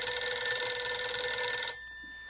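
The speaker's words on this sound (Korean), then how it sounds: "그때 전화벨이 울렸다." An old-fashioned telephone bell rings in a rapid, bright metallic trill, then stops abruptly, leaving near silence before a faint click.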